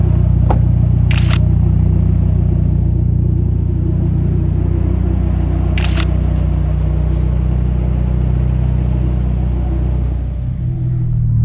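Two sharp camera shutter clicks, a few seconds apart, taken on the pit road of a race track, over a loud steady engine rumble from a Hyundai Avante N (CN7 N).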